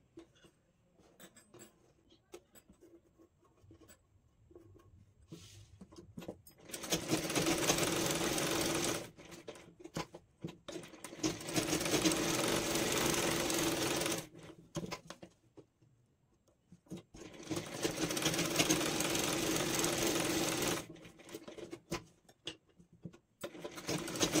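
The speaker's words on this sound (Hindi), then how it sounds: "इसके नेक पर हमें स्टिच लगा लेनी है" A sewing machine stitches along a blouse neckline in three loud, steady runs of several seconds each, with quiet handling sounds in the pauses between them.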